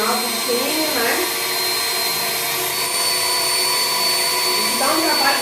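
A professional hair dryer blows on a cat's fur as it is dried, giving a loud, steady whirring roar throughout, with faint vocal sounds rising over it now and then.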